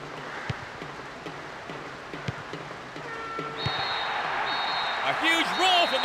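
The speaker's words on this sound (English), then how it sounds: "A huge roar from the crowd as the referee blows the final whistle." Stadium crowd roar in the PS2 football game PES 6 at the final whistle, a steady broadband swell that rises and grows louder midway, with whistle-like tones cutting through near the end.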